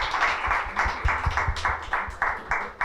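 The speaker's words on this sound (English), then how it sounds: "a round of applause for our panelists again" An audience claps for a panel of speakers at a live panel event, with quick rhythmic clap bursts repeating steadily for about three seconds at moderate loudness.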